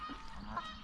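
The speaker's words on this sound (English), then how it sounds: "We've just been feeding some ducks." Ducks or geese at a reservoir, giving a faint, brief honk-like call over a low outdoor background.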